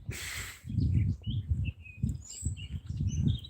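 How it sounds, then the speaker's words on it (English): Birds sing outdoors during a morning walk, with scattered high chirps and tweets heard at a moderate distance over low rumbling wind or footsteps and a brief hiss at the start. "you can hear the bird song"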